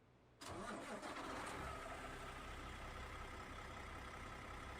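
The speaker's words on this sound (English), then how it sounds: "Inside the truck today, we have a Cummins X15 500 horsepower with an 18 speed without a retarder today, and sounds pretty good." A Cummins X15 500-horsepower engine in a Prime truck from American Truck Simulator cranks and catches, then settles into a steady, loud, rumbling idle close by, with no talk.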